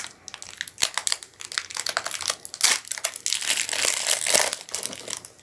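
A Pokemon card booster pack being torn open by hand, giving a close, continuous crinkling and ripping of foil wrapper with sharp crackles throughout and no talking.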